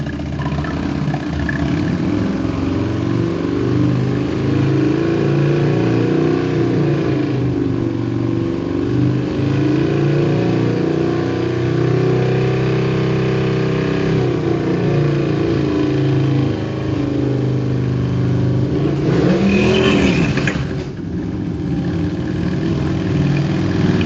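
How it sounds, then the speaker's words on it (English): A motorcycle doing a burnout at a bike night, its engine held at a loud, sustained rev that rises and dips, with a sharp surge and hiss near the end. "Here comes the burnout."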